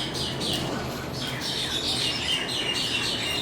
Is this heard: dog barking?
no